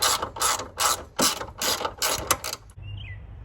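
A ratchet wrench loosens bolts on the cold air intake tray of a 2006 Chevrolet Silverado, a close rapid clicking in about eight rhythmic bursts, then stops with a faint squeak.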